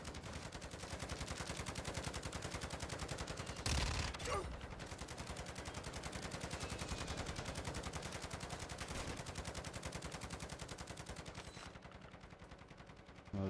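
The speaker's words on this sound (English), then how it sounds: "Fuck is this shooting?" Sustained automatic gunfire in Call of Duty MW2 DMZ, a dense rapid rattle of shots running almost continuously with a sharper burst partway through, while players talk faintly underneath.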